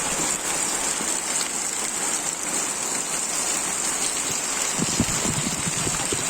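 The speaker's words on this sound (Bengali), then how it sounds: "প্রচুর বৃষ্টি পড়তেছে।" Heavy early-morning rain pours down in a steady, loud hiss, with a few duller thumps of drops near the end.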